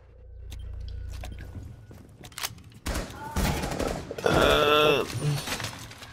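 Gunshots in a Rainbow Six Siege round: a few sharp shots punch through amid game noise and brief player chatter, then a louder cluster of close fire and impact noise toward the end.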